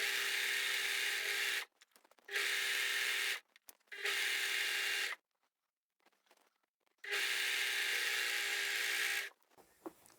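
Overlocker serger stitches through two layers of fabric in four bursts of steady, high-speed whirring, each a second or more long and separated by silent pauses, close and alone.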